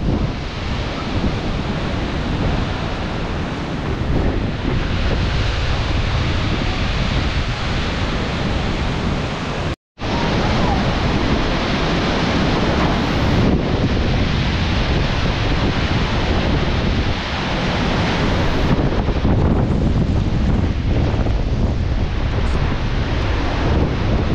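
Strong typhoon wind buffeting the microphone in a loud, continuous roar of gusts, with one abrupt brief dropout midway and no voices.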